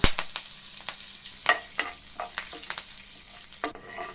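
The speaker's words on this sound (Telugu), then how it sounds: "ఇందులో కొంచెం కరివేపాకు కూడా వేసుకొని వేయించుకోవాలి" Oil crackles and spits as curry leaves fry in tempering oil in a pan, with sharp pops and brief sizzling bursts scattered over a few seconds, close and moderately loud.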